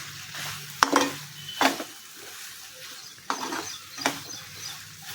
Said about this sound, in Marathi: तर हे पण एकदा हलवून घेऊया.